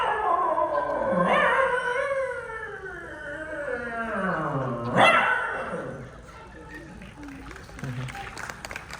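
A person's voice imitates dogs, with drawn-out, wavering howls and sharp bark-like yelps, rising and falling in pitch.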